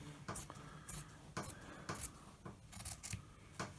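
Scissors snip through fabric blocks for a medical-surgical mask, several crisp close cuts in an irregular rhythm, with faint rustling between them.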